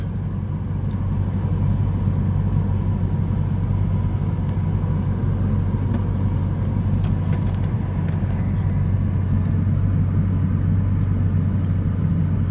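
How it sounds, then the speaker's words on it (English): Air conditioning blower running inside a Corvette C5, a steady, loud, constant rumbling drone of airflow and cabin hum with no change throughout. "the blower is blowing real nice."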